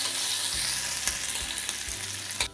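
Chopped ginger, green chili and garlic fry in a hot pan with a dense, bright sizzle, punctuated by a few spatula knocks and scrapes against the pan, nearby and wordless.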